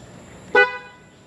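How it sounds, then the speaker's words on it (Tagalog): A single short, weak honk of a waterlogged CFMOTO 450CL-C motorcycle horn, thin and buzzy, over a low idling background; no voices. "pakinggan yung mabuti yung busina natin. Ang tunog niya ngayon ay ganito."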